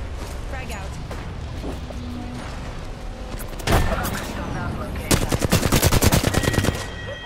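Gunfire in a shooter video game crackles over a constant background of game noise, with a heavy burst near the middle and then a rapid machine-gun stream of shots, while game voices are heard.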